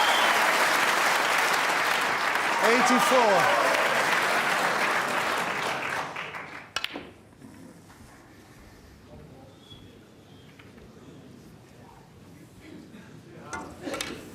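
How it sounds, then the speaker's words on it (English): Applause from the crowd at the 2013 World Snooker Championship final rolls on loudly for about six seconds, then cuts off abruptly into quiet, and a commentator speaks briefly afterward. "And listen to the crowd."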